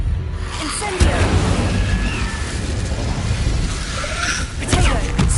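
An Incendio fire spell is cast in Hogwarts Legacy, producing a fiery whooshing burst with a sharp onset near the start, a sustained roar, and another flare toward the end.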